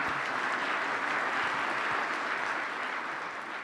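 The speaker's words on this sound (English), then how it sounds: "Please help me giving a round of applause for the panel" Dense, continuous applause from a conference audience thanking a panel on valley water supply, a steady wash of many hands clapping at once, moderately loud and tapering slightly at the end.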